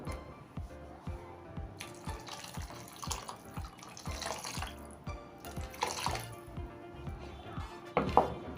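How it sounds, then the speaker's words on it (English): Water poured into a pot of green plantains for porridge, a steady splashing, trickling stream with gurgling, clattering pot sounds throughout, fairly close and without talk. "I'll add enough water to cover the plantain"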